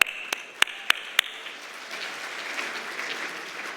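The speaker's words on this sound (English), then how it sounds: "we'll clap to that" A few sharp, separate claps open the moment at a semiconductor industry awards dinner, then a soft, diffuse spread of audience applause settles in and carries on at a moderate level across the room.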